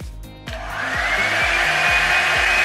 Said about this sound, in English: It sounds like a blow dryer. It's loud like a blow dryer.